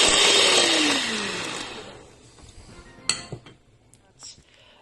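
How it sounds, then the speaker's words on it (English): An electric whisk mashes bananas for a banana and apricot loaf cake, whirring loudly with a falling pitch for about two seconds before cutting out, followed by a few light clinks of utensils against a bowl. "I'm actually going to use the electric whisk and mash the bananas with the electric whisk."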